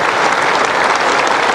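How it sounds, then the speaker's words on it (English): Cricket crowd at the Oval in London applauding a century in a 2003 England versus South Africa one-day international; dense, sustained, loud clapping fills the whole stretch. "This Oval crowd will stand to Jacques Callis,"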